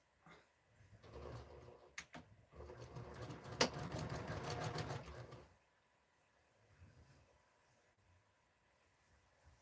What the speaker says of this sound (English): Now I'm going to backstitch